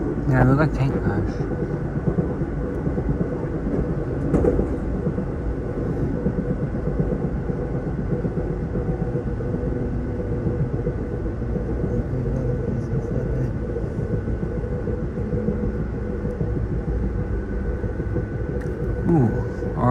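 A CSX freight train of coal and tank cars rushes past at speed just outside Buffalo, New York, heard from a passing passenger train as a steady, loud rolling rumble and rattle with people chatting over it.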